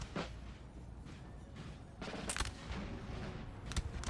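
Musket volleys in Napoleon Total War battle: scattered gunfire cracks with a few sharper, louder bursts near the end over a steady battlefield rumble, at moderate distance and fairly quiet.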